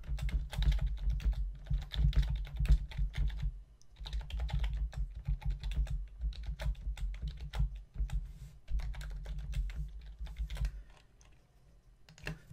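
Steady typing on a computer keyboard while entering checkout details on a sales page, a long run of close, rapid keystrokes in bursts with brief pauses, no voices.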